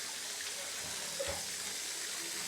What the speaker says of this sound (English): I'm going to run me bath.